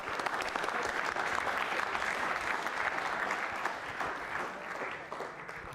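An audience at a Manipal University quiz show breaks into steady, dense applause, loud and sustained throughout with no pause.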